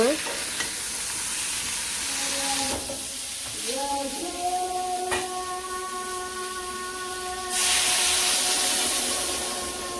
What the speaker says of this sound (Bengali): হলুদের গুঁড়া সবজিটা ভালো করে আর কি কষিয়ে নিব